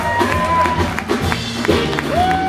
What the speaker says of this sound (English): Give yourself a round of applause one more time for Space here in Evanston.